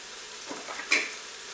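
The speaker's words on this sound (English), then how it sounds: "You're going to start to hear some sizzling here." A quiet, steady sizzle of beef for stew in a hot pan, with a brief louder crackle near the middle, no voices present.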